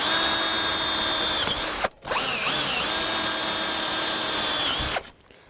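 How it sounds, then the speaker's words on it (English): A power drill drives a screw through a hoop on a DIY 10x10 greenhouse, whining steadily at close range in two long runs split by a brief pause, then stopping. "Just drill through the hoop."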